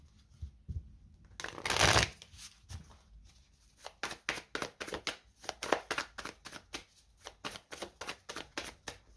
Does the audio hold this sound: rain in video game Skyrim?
no